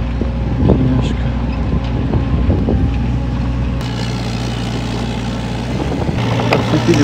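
A tractor engine rumbles steadily as it climbs to pick up a cable reel outdoors, with wind buffeting the microphone and a shift in engine tone partway through; people talk faintly over it.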